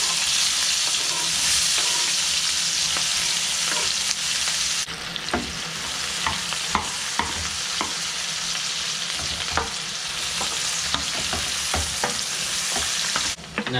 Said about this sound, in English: Now, in that same grease that we browned the shoulder in, we're gonna saute some onions.